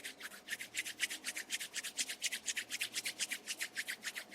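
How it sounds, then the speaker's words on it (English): Palms rubbed together briskly during a seated yoga class, producing a close, even, rhythmic swishing of about four strokes per second that continues throughout. "Rub your palms together. Create a nice energy"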